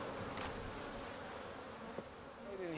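Honeybees buzz inside an active hive, a soft, close, continuous droning hum with a louder wing buzz rising at the very end.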